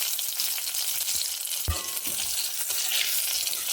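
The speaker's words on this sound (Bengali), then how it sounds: "এখানে দুটো কাঁচা লঙ্কা ফোড়ন দেবো দিয়ে দিচ্ছি একটুখানি পাঁচ ফোড়ন" Green chillies and a pinch of five-spice sizzle steadily in hot oil, a dense close crackle with a spoon stirring through once, no voices.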